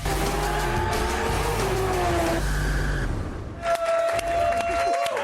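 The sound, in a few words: car driven away at Long Beach Grand Prix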